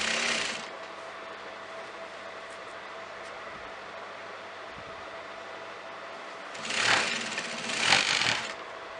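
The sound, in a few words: sewing machine sewing a kameez from the shoulder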